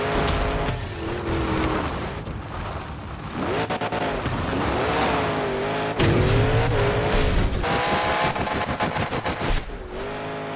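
Monster trucks race in Monster Jam Showdown, with engines roaring and revving in rising and falling sweeps, and tire squeals and rattling bursts layered over a loud, continuous game soundtrack.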